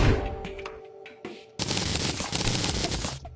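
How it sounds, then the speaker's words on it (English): Dynamite goes off in the video game Terraria: a burst of game sounds, then a loud, dense blast that holds for over a second at close range, with no talking. "I would like to test the dynamite."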